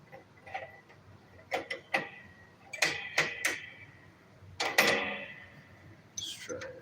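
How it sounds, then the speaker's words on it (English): A 13 mm wrench clinks and taps against a Kawasaki FE290D small engine during a rebuild, giving a handful of sharp, close metallic ticks and clanks spread irregularly over quiet room tone. "This is a 13 mil wrench."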